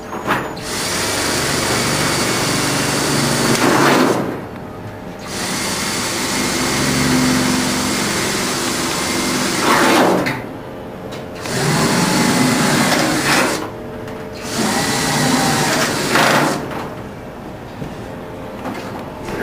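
A power drill enlarging holes in a car's boot cowl, running in four loud, close bursts of steady whirring, each cut off by a brief pause.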